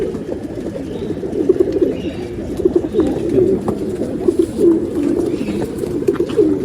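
Pigeons coo continuously in a loft, with layered low throaty calls from several birds nearby, and someone speaks faintly among them.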